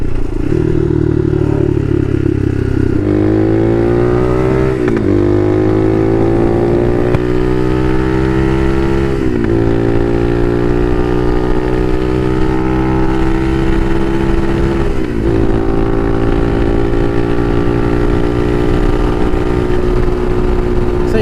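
Bashan Motomax 250 motorcycle on the move, a loud, steady engine drone that climbs in pitch and drops sharply at several gear shifts, close and continuous over wind rush.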